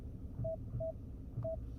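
Touchscreen climate control buttons in a facelifted Genesis G80 give three short, clean electronic beeps, evenly spaced and quiet, over a low cabin hum.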